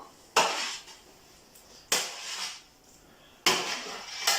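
Roasted vegetables are dropped into a pot for tagine-style soup in three distinct clattering bursts, each a sharp knock of a spoon or ladle against the pot followed by a short scraping trail, close and clear.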